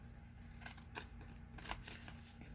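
Scissors trim a scrap paper tag in a series of quick, crisp snips and rustles, close and quiet over a low background hum.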